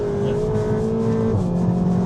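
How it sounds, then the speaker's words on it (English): Tuned Cupra Leon 280 Stage 2+ engine accelerating at full throttle in third gear, a loud steady drone that holds pitch and then drops into a lower tone, heard from inside the car. "I'm flooring it right now. It's now building up, third gear."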